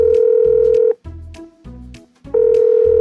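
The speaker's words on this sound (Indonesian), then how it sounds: "Kita telepon sebentar ya." A telephone dial-style tone plays in short steady bursts with gaps between, clear and alone with no talk, during a children's church service skit before a call.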